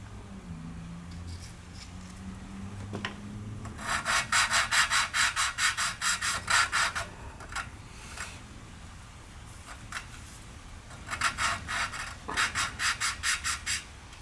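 A valve on a 1990 Onan P218 engine is lapped with lapping compound, giving rapid, gritty back-and-forth rubbing in two close bursts separated by scattered light scrapes and taps.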